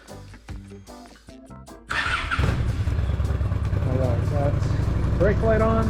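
Several sharp clicks and brief cranking precede a Honda Shadow Aero VT750CS motorcycle engine firing up, which then settles into a close, steady, throbbing idle with a light rev near the end.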